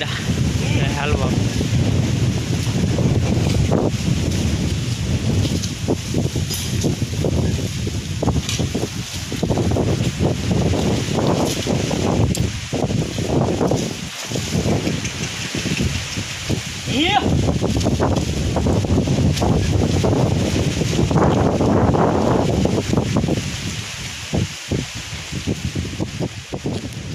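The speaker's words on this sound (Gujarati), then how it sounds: "પવન બહુ છે" Strong wind sweeps across open farm fields, rumbling and buffeting the microphone in continuous heavy gusts that surge and ease over nearly half a minute.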